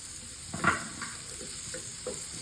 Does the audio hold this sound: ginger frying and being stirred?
yes